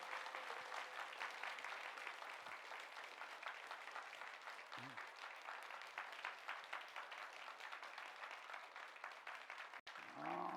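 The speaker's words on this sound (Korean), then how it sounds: "우리 박수로 축복합니다." A church congregation claps during a Sunday morning service, steady sustained applause from many people that sounds somewhat distant and soft, with a short tone and a brief voice near the end.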